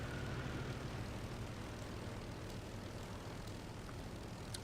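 A steady, faint drone from a propeller aircraft engine running as the plane taxis in a combat flight simulator game, with no voices.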